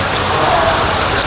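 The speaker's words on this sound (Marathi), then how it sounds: "जोरात पाऊस चालू झाला आहे आता मुसळधार." Heavy monsoon downpour at a flower market in Pune, a loud steady dense hiss of rain filling the whole moment without a break.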